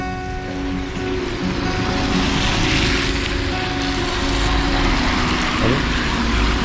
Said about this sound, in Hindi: इसमें इतना पानी पड़ रहा है।